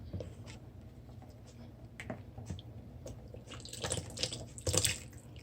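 Liquid pours into spice bun dough in short, uneven bursts with soft splashing and trickling, growing a little louder toward the end, fairly close.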